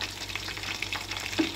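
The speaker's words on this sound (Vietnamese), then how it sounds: "Đây em đang chiên luôn nè," Breaded bread dipped in duck egg and breadcrumbs deep frying in hot oil, a steady close crackling sizzle with bubbling pops throughout, no talking.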